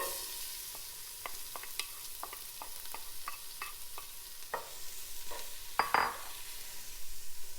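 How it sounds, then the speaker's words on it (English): Diced onion sizzles in hot olive oil in a pot, a steady frying hiss broken by a series of sharp spoon clinks and scrapes against the pot, with a louder clatter near the end. "So I've diced some onion and I'm just going to pop that in"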